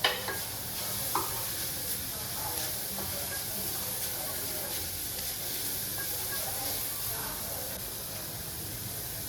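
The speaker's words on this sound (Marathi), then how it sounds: "आता मी ह्यामध्ये टाकलेलं आहे किसलेलं बीट" Grated beetroot and bell pepper stir-fry in a pan, giving a steady close sizzle and hiss with occasional scraping stirs.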